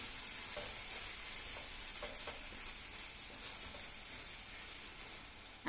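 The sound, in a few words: frying tomato masala in a pan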